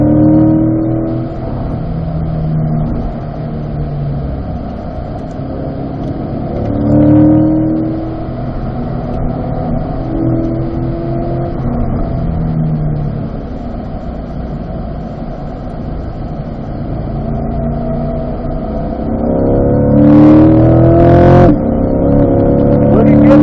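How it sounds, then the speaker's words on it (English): A race car accelerates out of a corner on the Spring Mountain track, its engine droning loud and steady with rising pitch sweeps and a harder surge near the end, while a voice talks over it. "we'll unwind and accelerate out, Bob."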